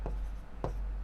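A pen scratches out a maths solution by hand in two short, close strokes separated by a brief pause.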